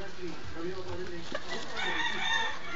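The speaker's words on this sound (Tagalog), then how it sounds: "Mga ibon no ata?" Chickens, with a rooster crowing loudly and up close, give repeated drawn-out calls and clucks over faint background murmur.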